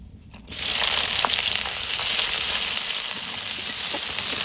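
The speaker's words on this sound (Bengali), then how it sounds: "এখন ফোড়ন দিয়ে দাও, আচ্ছা, শুকনো লঙ্কা আর গোটা জিরে তেজপাতা এখন দিয়ে দাও" Dried red chillies, whole cumin seeds and bay leaves hit hot oil and burst into a loud, steady sizzle that holds without a break, cooking for a mutton curry.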